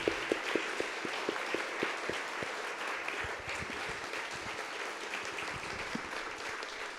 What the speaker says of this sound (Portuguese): peço uma salva de palmas e um agradecimento para o Eduardo